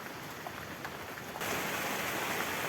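Steady rain patters on a surface during a rainy, cold morning in the Philippines, a dense hiss with scattered drops that grows louder partway through. No voices.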